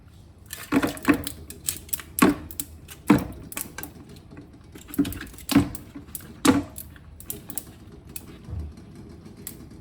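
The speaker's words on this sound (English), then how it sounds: "Okay, once again, ice cubes." Ice cubes dropped into a bowl for an ice bath, a series of sharp clinking clatters in irregular bursts, close and clear with quiet between drops.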